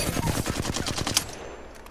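Rapid automatic Flatline rifle fire in Apex Legends, a steady burst of evenly spaced loud shots for over a second, then a fading tail and a couple of faint clicks, with no talk.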